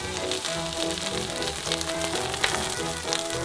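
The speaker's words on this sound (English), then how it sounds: "put it in a skillet and then flatten it out just like a burger patty" A mackerel keto patty, flattened like a burger, frying in a skillet with a steady close sizzle and crackle and no talking.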